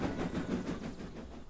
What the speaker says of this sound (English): Mighty Mac pulled up alongside